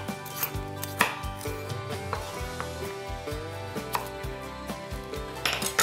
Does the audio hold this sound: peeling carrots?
yes